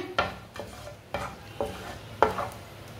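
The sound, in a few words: roasting whole coriander seeds in a pan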